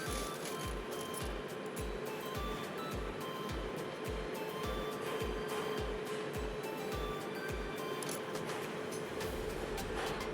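A sewing machine stitches net cloth for a child's party frock, a steady rhythmic clatter of needle strokes running close and continuous throughout.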